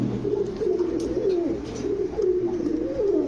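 Pigeons at a pigeon seller's, including Pakistani Teddy, Saharanpuri and Budapest breeds, coo in soft, close, repeated rolling calls, one after another with no talk over them.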